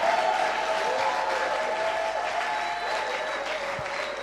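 A church congregation bursts into steady, dense applause acclaiming the king of kings, loud continuous clapping with a faint crowd murmur and no clear speech.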